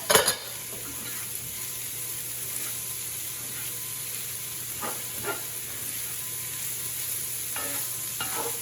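Corned beef hash sizzles steadily in a frying pan, a constant close hiss broken by a few light scraping and stirring knocks, with no talking.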